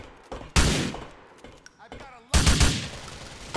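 Gunfire in the video game GTA 4, heard as two loud, close bursts of rapid automatic fire with quieter clatter between them.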